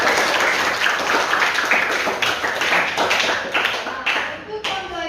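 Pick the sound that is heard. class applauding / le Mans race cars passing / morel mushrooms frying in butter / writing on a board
class applauding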